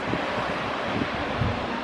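Waterfall at Lauterbrunnen in Switzerland, a continuous broad roaring rush of falling water heard nearby, steady and loud with a windy, hissing texture and no voices.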